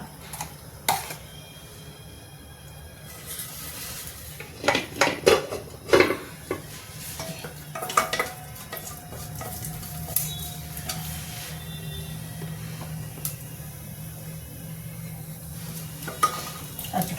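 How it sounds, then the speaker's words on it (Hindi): Cumin dropped into hot ghee or oil in a pan for an Indian thali, a soft steady sizzle under scattered metallic clinks and stirring scrapes, close and fairly quiet, with no talking. "अब इसमें सबसे पहले जाएगा मेरा जीरा,"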